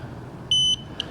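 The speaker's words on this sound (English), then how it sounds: "Once you hear that beep" Jazzy Carbon power wheelchair safety alarm: one short, clear electronic beep followed by a tiny chirp, close and fairly loud over quiet hum, no talking.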